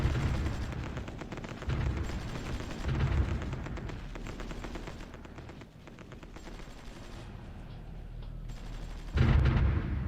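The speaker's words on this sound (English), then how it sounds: "Okay, the artillery is doing a fine job here." Artillery fire in the Supreme Ruler Ultimate strategy game during a Soviet frontal assault, a dense, continuous rumble of booms and rattling gunfire with heavier blasts near the start and end.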